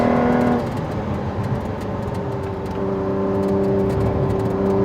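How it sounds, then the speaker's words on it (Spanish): A Ford GT engine with 750 Nm of torque accelerates with a loud, steady roar, and its pitch climbs gradually as the revs rise, heard up close inside the car. "Fijaros cómo acelera, cómo va subiendo de vueltas"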